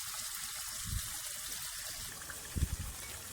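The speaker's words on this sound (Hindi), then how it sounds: "बाउल को अच्छी तरह से साफ करके थोड़े से पानी में वो भी डाल देंगे हम।" Water from a rinsed mixing bowl is poured into a pot of chicken curry being cooked with spices, giving a faint, low trickle with two short splashy gushes.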